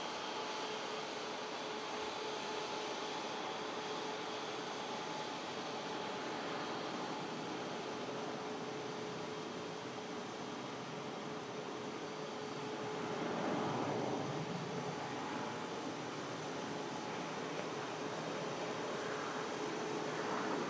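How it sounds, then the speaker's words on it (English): An Airbus A350 airliner taxiing at an airport gives a faint, distant, steady engine hum and whine that swells slightly midway, continuous with no voices. "Airbus A350 just taxiing straight in this time."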